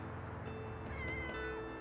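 A cat meows indoors, a short, fairly close call that rises over a steady background bed of music or room noise, with no talking.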